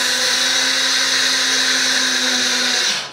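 A countertop blender grinds flax seeds into powder, giving a loud, steady whirring roar with a sustained motor whine for about three seconds before spinning down at the end.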